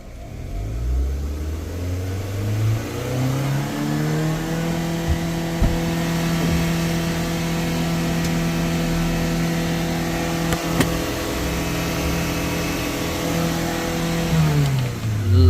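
A Maruti Suzuki Baleno's engine, being checked for a pickup problem and acceleration drop, revs up near the mic, holds a steady high idle for a long stretch, then winds back down.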